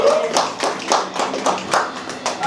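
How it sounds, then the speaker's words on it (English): Scattered hand claps from a small audience at a spoken-word writing session, coming in uneven bursts over a couple of seconds, close and fairly loud, with a voice murmuring faintly underneath. "Y'all give a little round of applause."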